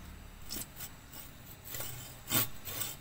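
Scissors or pruners cut the stem of a one-year-old ant plant cutting, giving a few dry scraping rubs and snips, close and faint, with one sharper cut near the end.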